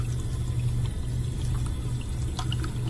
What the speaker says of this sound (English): Turn on a cold water tap halfway to imitate a low pressure period in the house.